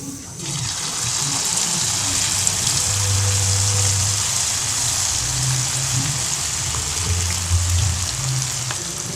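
Cauliflower chilli pieces deep-frying in hot oil, a steady broadband sizzle that runs the whole time with low bubbling swells and faint background voices.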